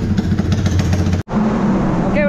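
A motorcycle engine runs steadily at close range with a loud, continuous rumble, cut by a brief silent gap, before picking up again with a rising rev at the end.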